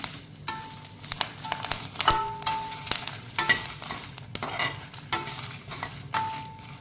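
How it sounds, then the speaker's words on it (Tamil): Curry leaves lightly frying in a pan for black dal idli podi, with soft sizzling beneath repeated sharp clinks and scrapes of a utensil stirring against the pan. "கருவேப்பிலையும் சேர்த்துங்க லைட்டாக ஃப்ரை பண்ணுவோம்"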